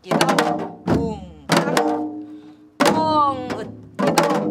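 A Korean janggu hourglass drum plays a basic accompaniment rhythm: five loud, close strikes about a second apart, each with a ringing, decaying tone, and a voice chants along between the beats.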